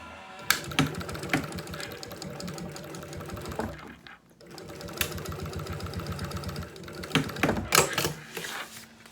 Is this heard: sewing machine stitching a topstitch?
yes